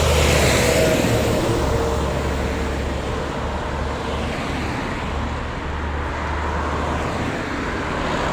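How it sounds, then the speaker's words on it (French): Heavy road traffic flows steadily near the market in Lloret de Mar, close to Fenals beach, with cars rumbling past in a continuous loud wash of engine and tyre noise and no clear talk. "La circulation semblerait intense. Il y a beaucoup de voitures."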